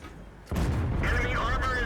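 A tank gun fires in a World of Tanks battle, likely from an FCM 50t or Super Pershing: a sudden heavy boom cuts in after a quiet stretch and rolls on as a sustained roar, with a voice talking over it.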